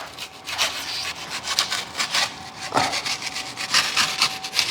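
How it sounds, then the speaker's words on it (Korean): Utility knife sawing back and forth through urethane foam insulation, a series of scratchy, rasping strokes in an uneven rhythm, close and moderately quiet, with no talking. "이게 한 번에 쑥 안 나가고 이렇게 톱질하듯이 해줘야 돼요."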